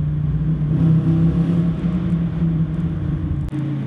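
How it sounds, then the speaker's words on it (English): A 2019 Dodge Challenger's Hemi V8 with stock exhaust holds a loud, deep, steady rumble close by, with one brief dip near the end. "The Hemi V8 sounds amazing, even with the stock exhaust."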